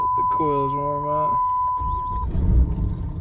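A Ram 2500 four-wheel-drive pickup truck: a warning chime tone sounds, then the engine cranks and catches with a low, swelling rumble that settles into an idle, close by.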